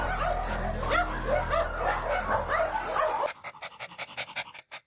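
Excited dogs at an animal shelter pant, yip and bark up close, then after about three seconds fall to quieter rhythmic panting and whimpers.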